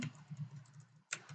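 Soft, steady keystrokes on a computer keyboard, quiet and close, with a slightly sharper tap near the end.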